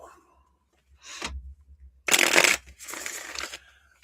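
Playing cards, likely tarot or reading cards, being shuffled close up, a few quick riffling bursts with brief pauses between them.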